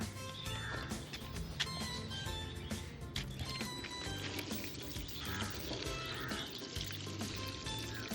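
Liquid compost tea fertilizer pours and splashes steadily onto plants for several seconds, with a busy sizzling, bubbly texture and some background noise.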